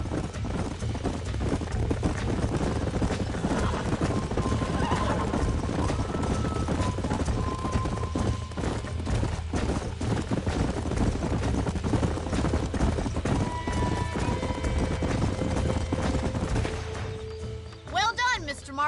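Hooves clip-clop steadily with a dense rumbling background, and a horse whinnies faintly near the end, in the video game Red Dead Redemption 2.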